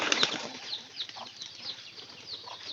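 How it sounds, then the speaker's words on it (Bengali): Domestic pigeons take off from a loft in a burst of wing flapping, the loud flutter at the start settling into repeated nearby wing beats as the birds fly out. "কবুতর গুলা সব বাহিরে চলে যায়। এই যে আবারও যাইতেছে"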